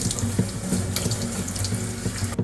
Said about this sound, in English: we'll give this a nice soaking